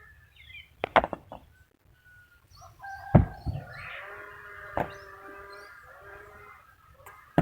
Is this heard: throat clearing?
no